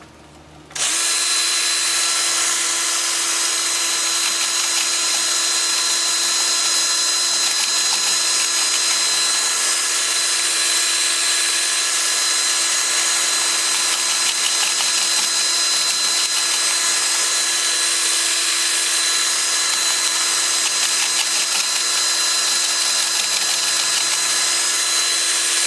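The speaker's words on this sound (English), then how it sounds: "Lathe is spinning at 350." A wood lathe spins a desert oak bowl at 350, starting abruptly and then holding a loud, steady high-pitched whine and hum for the whole stretch, with no talking.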